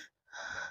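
A voice imitates gasping, labored breathing: a short sharp intake, a brief pause, then a longer strained wheezing breath, close and loud.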